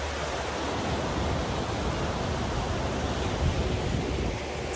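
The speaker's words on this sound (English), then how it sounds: "here you probably can already hear the wonderful waves" Ocean waves rolling onto the coast at Tel Aviv on a sunny early morning, a steady broadband wash of surf with no distinct individual breaks, heard alone at moderate loudness.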